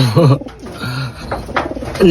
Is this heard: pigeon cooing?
yes